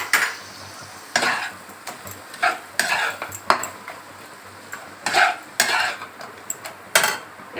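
Chopped tomato and a mixed cumin-coriander spoonful stir-fried in a little oil for a hilsa-head and banana-stem dish, giving repeated scraping spatula strokes and light clinks against the pan over a faint sizzle, close and steady.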